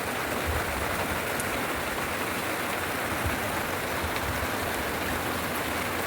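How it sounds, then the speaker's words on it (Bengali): Rain falls steadily, a dense even patter of drops hissing on surfaces without pause. "সেরকম দেখো বৃষ্টি পড়ছে"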